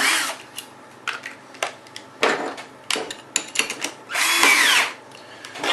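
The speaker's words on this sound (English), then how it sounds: "You always want to have a piece of wood, just scrap wood, when you're drilling, because otherwise it can mess up your table." Drill with a 13/16 bit boring into scrap wood: short, loud bursts of whirring and grinding separated by pauses, with one longer sustained run near the end, close by and with no speech.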